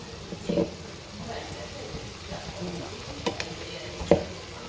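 Brinjal coconut curry stirred in a frying pan, with soft scraping strokes and faint sizzling at a quiet, close level.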